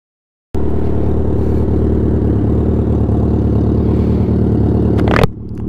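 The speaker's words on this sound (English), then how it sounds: "Look at the exhaust sound" A BMW motorcycle's exhaust kicks in suddenly and holds a loud, close, steady rumble with a slight surge near the end before cutting off abruptly.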